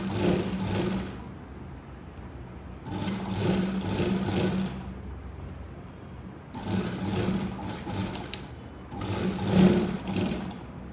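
A sewing machine stitches a blouse seam in four bursts of rapid mechanical whirring, each a couple of seconds long, separated by short pauses.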